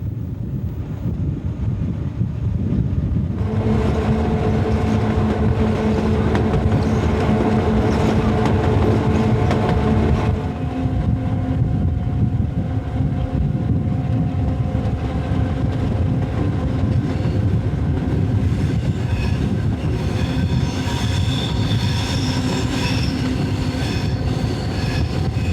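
An Algoma Central tour train rolls steadily along the rails through snowy forest, a loud continuous rumble of wheels and cars with some squeal tones and wind buffeting the microphone throughout.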